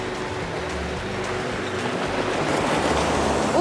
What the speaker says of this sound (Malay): Okey, ombak dia kuat.